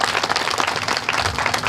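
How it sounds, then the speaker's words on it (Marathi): An audience bursts into brief, dense applause at a public speech event in Maharashtra, many hands clapping together at moderate distance with no voices. "एकदा जोरदार टाळ्या त्या माणसामध्ये वाजल्या।"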